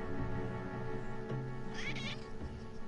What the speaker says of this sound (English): Just pushing my cat around.